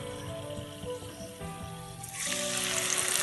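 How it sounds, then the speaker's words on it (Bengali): Spice paste dropped into hot oil for a Bengali mixed vegetable curry, bursting into a loud, steady close-up sizzle partway through and continuing to the end, with no talking. "এবারে আমি এতে দিয়ে দেব এই মশলার পেস্টটা।"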